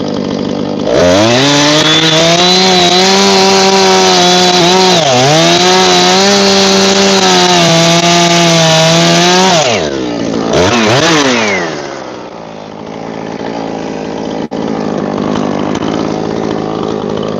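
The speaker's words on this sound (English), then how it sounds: "Trying to get to the bottom without putting our chainsaw in the dirt." A loud chainsaw roars steadily as it cuts through a large firewood log round lying on the ground, its pitch dipping under load, then bogging and revving before settling to a lower idle.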